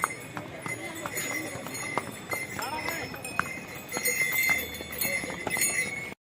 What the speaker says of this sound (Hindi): हम अब घोड़े की सवारी कर रहे हैं